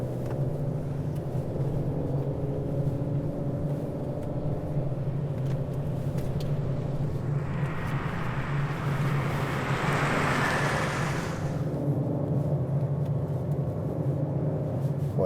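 A 2020 Ford Explorer ST drives in manual mode, locked in gear, on a wet road, a steady loud engine drone and low rumble from inside the cabin, with a swelling hiss of tire spray and wind midway.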